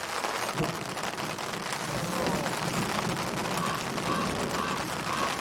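Steady rain pours down during a storm while backpacking in Yellowstone, a dense continuous hiss of drops close around, with no other sounds rising above it.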